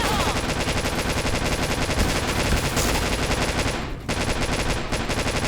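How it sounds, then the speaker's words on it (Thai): Automatic gunfire in the online shooter Point Blank, a loud, dense, unbroken burst of rapid shots with a brief pause near the end before the firing resumes. "ปืนนี้แม่งดีอยู่แล้วเว้ยแต่กูยิงไม่โดนเว้ย"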